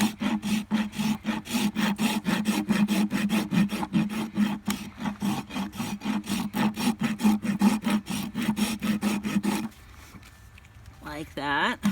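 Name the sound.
rasping a horse's hoof wall with a farrier's rasp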